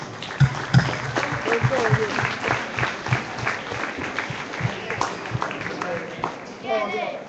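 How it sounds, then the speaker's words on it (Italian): Scattered clapping and cheering from a small group at a Palio gathering for Porta Sant'Angelo, with voices talking over it and brief whistles near the end. "Ragazzi vi faccio un applauso da Valle Corsano"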